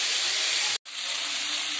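Water poured into a hot pan of sautéed potatoes for a fish curry, a loud, close, broadband hiss of steam that cuts off for a moment and then keeps hissing steadily.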